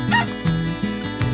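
A dog gives a few short, close yips and whimpering barks in an irregular rhythm, fairly loud and with no talk over them.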